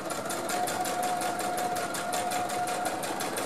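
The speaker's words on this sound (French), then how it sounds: "Puis maintenant, il ne reste plus qu'à coudre." A sewing machine runs steadily, stitching a baby sheet, its rapid motor hum and needle rattle continuous and close for the whole stretch without pause or talk.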